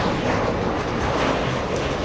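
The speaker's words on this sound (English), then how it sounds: "we have American Airlines about to touch down. Both 737s" Boeing 737 airliners at Los Angeles International Airport, one landing and one taxiing: a continuous broad, loud jet-engine roar, steady and close, with no talk over it.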